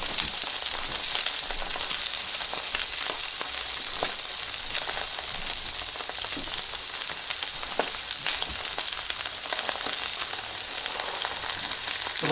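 Fish frying in hot oil in a pan, a dense, steady sizzle with continuous crackle and spatter, close and fairly loud, unbroken throughout.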